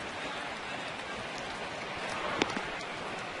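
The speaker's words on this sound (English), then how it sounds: "Rain is coming down fairly hard at this point." Heavy rain pours steadily over a baseball field during a Texas at Charlotte game, a dense even hiss of drops with one brief sharper tap near the middle.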